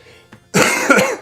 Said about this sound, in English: I still have a cough that I'm not yet over.